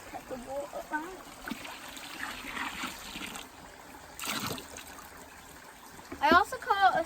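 Water trickles and splashes at a carp fishing lake, small intermittent drips and a louder splash near the end, heard close up while people talk and bird-like chirps occur in the background.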